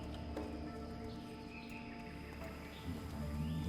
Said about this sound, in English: all we would really hear is just the birds.